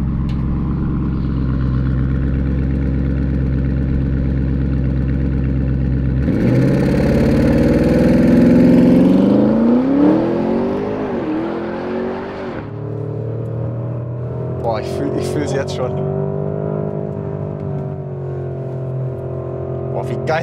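A 640 hp Porsche Cayenne Turbo GT engine idles, then revs hard and accelerates downhill with a rising roar before fading off into the distance.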